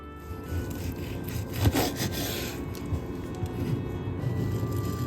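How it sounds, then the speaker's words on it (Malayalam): A knife sawing through a smashed cheese burger, giving close, soft rasping strokes in a steady back-and-forth rhythm with a brief louder scrape near the middle, no talk. "നമുക്ക് ആ ബർഗർ കട്ട് ചെയ്ത് നോക്കാട്ടോ എങ്ങനെയുണ്ടെന്ന്."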